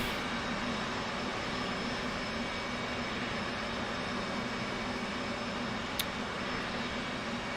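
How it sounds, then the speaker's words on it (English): Jet engines of an F/A-18 Hornet run steadily in a continuous broadband roar with a constant whine, unchanging throughout and with a single brief click near the end. "it gets a little noisy with the engines running."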